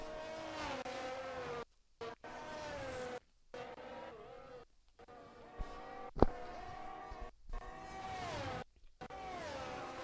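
A McLaren race car in a racing video game laps the Bahrain circuit, its engine note droning and shifting pitch with brief dropouts, moderately loud and continuous with no voices.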